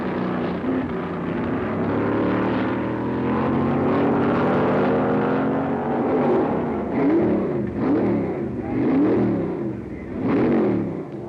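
Can-Am race cars, including a Lola Ford, at the 1968 Stardust Grand Prix in Las Vegas: loud engine drone with rising harmonic sweeps of cars accelerating past, later pulsing as several machines pass in quick succession.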